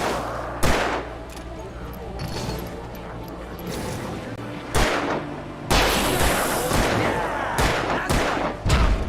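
Gunfire rattles through a firefight in Alan Wake Remastered: loud, dense bursts and sharp blasts rise and fall close in, with a voice talking faintly beneath the shooting.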